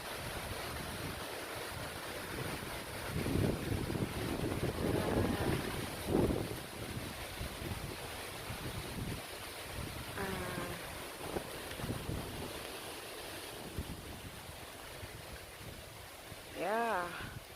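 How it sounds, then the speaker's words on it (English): Strong wind buffets the microphone on a boat trip in the Philippines, a rough gusty roar with surging waves and water underneath, while people talk briefly in between the gusts. "it's quite a windy day"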